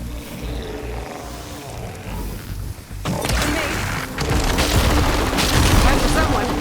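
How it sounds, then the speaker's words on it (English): Glowing crystals detonating in Horizon Forbidden West: a deep rumble that swells into loud booming blasts and roaring debris, building heavier through the second half. "See those glowing crystals? Takes one hit to detonate."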